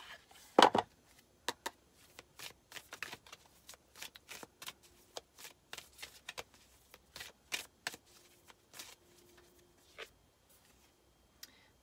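A deck of oracle cards is shuffled by hand, a quiet series of crisp riffling flicks and soft card slaps in an irregular rhythm, close and alone.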